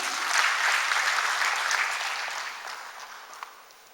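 Seminar audience applause welcoming a marketing and branding expert, a dense, sustained wash of many hands clapping that starts loud and gradually fades toward the end, with no talk over it.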